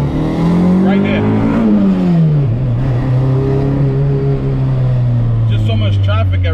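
A Honda Civic EG with a D16 engine revs up in first gear, a loud, close engine drone climbing in pitch, dipping at a shift point, then holding a steady note with faint road noise around it.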